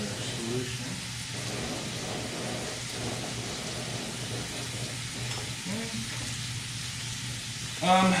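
Bacon sizzling in a frying pan while making carbonara: a steady, soft crackling hiss that runs throughout at moderate level, with a low hum beneath and a brief clatter at the end.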